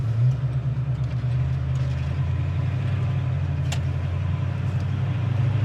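A 1968 Ford Mustang coupe idles with a close, steady low rumble and an even, unbroken engine drone, with no voices over it.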